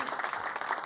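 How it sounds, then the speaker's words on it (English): Applause for the outgoing Detroit mayor at his final press conference, a dense steady patter of clapping from a room of people that fills the brief moment without letting up. "If we can give him another round of applause, since this is his last press conference."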